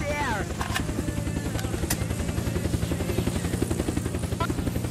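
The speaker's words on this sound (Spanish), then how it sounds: "¿Dónde está el helicóptero?" A helicopter in the video game Unturned flies close by, its rotor beating in a steady, rapid low thump that stays loud throughout, with a few sharp higher bursts over it.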